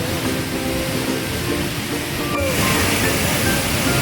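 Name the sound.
natural waterfall at Muktinath, Nepal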